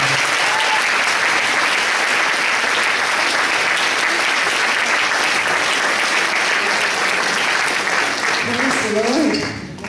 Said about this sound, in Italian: Accogliamo con un applauso un po' più caldo